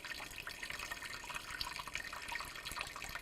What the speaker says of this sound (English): now we're just going to slowly pour this liquid through our sieve